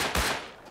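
Gunfire in the survival game Rust: a short, loud, dense burst of shots with a sharp blast near the start that trails off quickly, with no voices.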